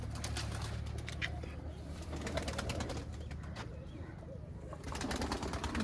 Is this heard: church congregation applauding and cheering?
no